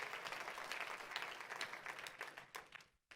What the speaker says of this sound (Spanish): Dele un fuerte aplauso al Rey de la Gloria conmigo.